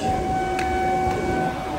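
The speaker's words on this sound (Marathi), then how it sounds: "आली आली ट्रेन आली." A steady mechanical rumble runs throughout with a sustained whistle-like tone as the Matheran toy train arrives at a station, fairly close and even.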